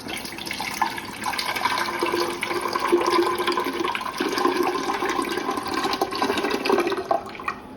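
Descaling solution pours from a bottle into the reservoir of a Keurig brewer, a steady close gush of liquid lasting several seconds with no talking.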